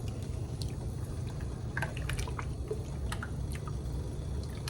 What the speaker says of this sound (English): pour in your heavy cream